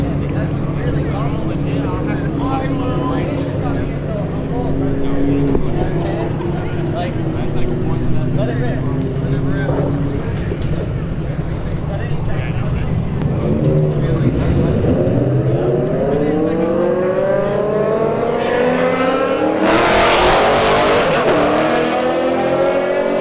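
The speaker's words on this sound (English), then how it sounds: "All right, Beamer versus Camaro." BMW and Camaro launching side by side down a drag strip at Bradenton Motorsports Park, engines droning steadily then rising in pitch through the gears as they pull away, loud and continuous, with a public-address announcer talking over it.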